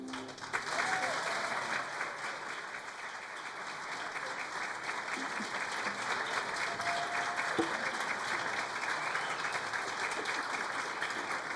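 Steady audience applause fills a city council meeting room, sustained and fairly close throughout, with a few faint voices and whistles mixed into the clapping.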